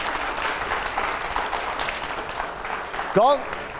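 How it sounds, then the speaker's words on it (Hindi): Audience applause on a televised political discussion show, a moderate, steady patter of clapping heard under speech, ending with a brief louder burst. "जोरदार तालियां हो पहले।"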